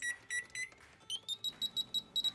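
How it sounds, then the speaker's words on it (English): An oven timer beeping in a kitchen while muffin-pan pizza bites bake, a quick run of sharp, high electronic beeps in short even pulses, three slower ones and then a faster steady series, close and clear with no talk. "Then you're going to want to set the timer on your oven for 15 minutes."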